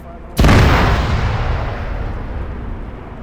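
Demolition charges detonate in the video game Arma 3: one sudden, loud blast hits at once, then a long, deep rumbling decay that carries on to the end of the moment.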